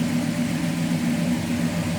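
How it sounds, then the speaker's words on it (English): 1965 Dodge Coronet with a 383 V8 idling, a steady low exhaust rumble with mild throb, moderately loud and close, with no voices. "Little rumble coming out of that 383, nothing crazier over the top as far as loud exhaust goes."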